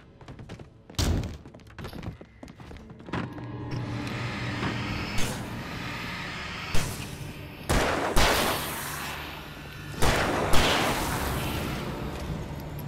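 Flashbang grenades going off in the video game Alan Wake, a series of sharp loud bangs and thumps spaced a couple of seconds apart over a rumbling, noisy game soundscape.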